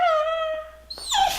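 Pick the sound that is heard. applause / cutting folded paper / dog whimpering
dog whimpering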